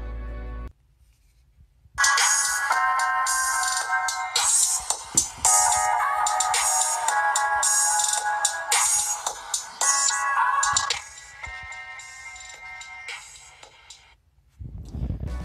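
The rear speaker of a Blu R2 Plus phone plays a bright, tinny ringtone melody for about ten seconds, then fades out, fairly loud and close, with a brief rustle before and after.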